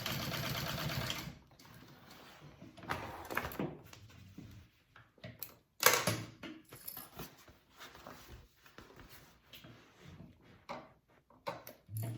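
Sewing machine basting backpack pattern pieces together, with a short burst of stitching at the start, a shorter run later, and quiet handling knocks and clicks in between.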